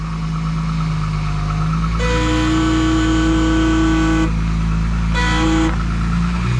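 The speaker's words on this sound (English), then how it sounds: "Stop blowing the horn! Stop sounding the horn!" Horn on a Jaguar Mk2 3.8 manual classic car honks loudly and up close in two long blasts, the first about two seconds and the second shorter, over a steady engine rumble.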